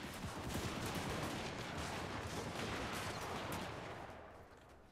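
Empire handgunners from Total War: Warhammer 2 fire a volley, a thick, sustained crackle of many overlapping musket shots that stays loud and close before tapering off at the end, with no voices over it.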